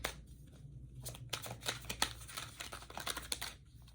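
Tarot cards riffled and shuffled close up, a run of quick papery flutters and taps with short pauses, quiet and steady with no voices.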